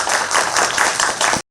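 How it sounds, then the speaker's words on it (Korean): Seminar audience applauding together in a sustained burst of many hands for about a second and a half, then stopping abruptly into silence. "박수 한번 드리고"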